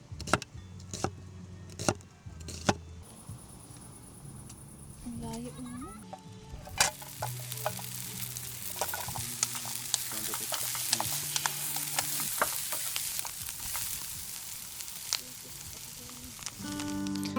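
Pure Foods sisig sautéed with onions at an outdoor motorcycle campsite, early clinks and a rising electronic tone before a rushing sizzle takes over with stirring clatter, while people talk nearby throughout.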